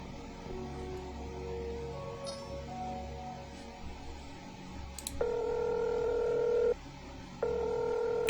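A phone keypad in the sci-fi video game Technobabylon sounds a short series of dialing tones over a steady game hum, ending in a long, loud tone that breaks off briefly and resumes.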